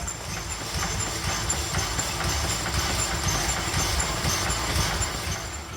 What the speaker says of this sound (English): Also running was an example of the well-known weir pump, another way of pumping water back into a boiler to maintain the water level.